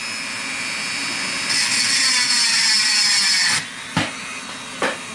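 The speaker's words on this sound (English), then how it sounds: "Now I'm going to grind, start this up. It's gonna be a little noisy." A high-pitched rotary tool whines continuously while grinding a part for a Crosman 2240 air pistol power adjuster, getting louder midway, then cuts off, followed by two brief bursts.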